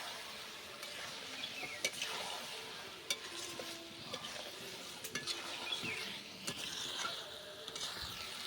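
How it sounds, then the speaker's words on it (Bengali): Potatoes stirred into a spice mix in a pan for a jackfruit and prawn curry, with a spoon scraping and clinking against the pan under a soft sizzle, steady and close. "এবার আমি মশলার মধ্যে আলুটা দিয়ে দেব। দিয়ে হালকা করে নেড়ে দেব।"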